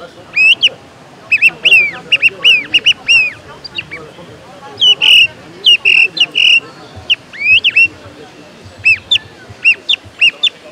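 A person imitating a song thrush call with a bird caller at a hunting festival, repeated sharp whistled chirps in short clustered bursts, loud and close, with faint background murmur.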